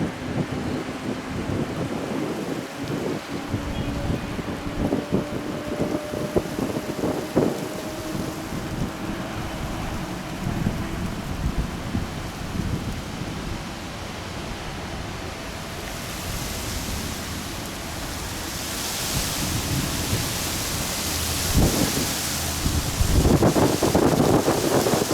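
Strong wind gusting across a runway at Amsterdam Schiphol airport, a steady broadband rush that buffets the microphone and swells louder toward the end, with faint distant engine hum underneath.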